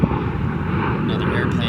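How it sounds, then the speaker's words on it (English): An airplane passes overhead on an outdoor trail, a steady low roaring drone that fills the background, with a person talking over it. "Another airplane will let pass by."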